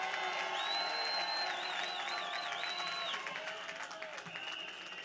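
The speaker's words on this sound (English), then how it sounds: "Give them all a round of applause." A rally crowd claps and cheers, with whoops and a wavering whistle over dense applause that gradually eases.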